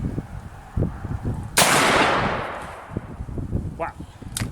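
A single sharp blast rings out from a Rossi Tuffy .410 single-shot shotgun fired at a steel target about 45 to 50 yards away outdoors, followed by a decaying roar, with low murmurs around it.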